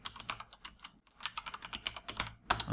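Rapid typing on a computer keyboard while building a VB.NET form, with quick uneven clicks and clacks, a brief pause near the middle, then a louder final keystroke, with no voices.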